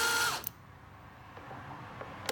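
A power tool undoes screws on the air filter housing of a Passat R36, with a short burst of whirring at the start followed by faint clicks and handling noises in a quiet space.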